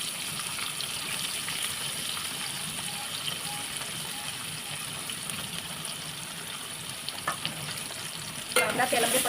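Finely chopped onion frying in oil with bay leaf for a matar paneer curry, a steady dense sizzle throughout with faint stirring scrapes and a sharper burst of hissing near the end.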